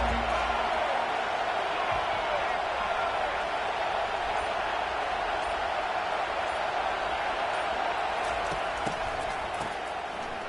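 A stadium crowd in the College Football video game keeps up a continuous roar of cheering, steady and loud across the whole stretch, forming a dense wash of crowd noise.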